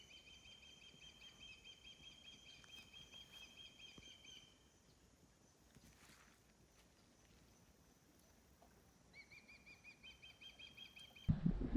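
Repeated high chirping calls from birds at a distance on Blue Cypress Lake, Florida, in rhythmic bursts that fade midway and return, over quiet outdoor ambience.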